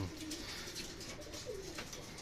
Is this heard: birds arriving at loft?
yes